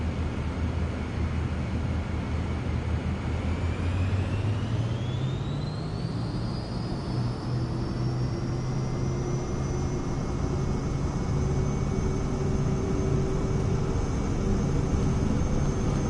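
An aircraft takes off in Microsoft Flight Simulator 2024 from a Cayman Brac runway. The engine drone is steady and loud, its pitch rising as the plane speeds up, with a constant rushing roar underneath.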